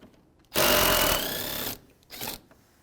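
A power tool whirs out a 10mm bolt holding a plastic air dam on a 2015-2019 Hyundai Sonata, with one steady buzzing run of about a second followed by a shorter burst, close and fairly quiet.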